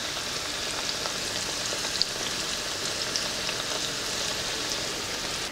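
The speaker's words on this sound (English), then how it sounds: "if it sizzles, it means that it's ready" Eggplant slices fry in a pan, a dense, steady sizzle and crackle with faint pops, close and continuous throughout.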